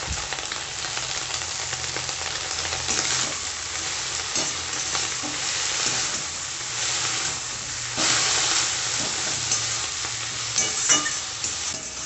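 Telakucho greens frying in a pan with slit green chilli, salt and turmeric, a continuous hissing sizzle with occasional stirring scrapes, close and moderately loud, no speech.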